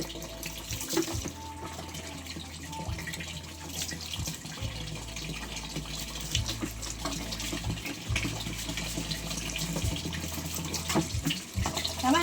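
Water running steadily from a tap during a bath, a loud, continuous splashing stream that lasts throughout.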